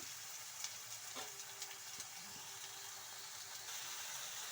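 Tomatoes frying in a pan for an Agrahara-style egg curry, a soft, steady sizzle with occasional light stirring, fairly faint and continuous.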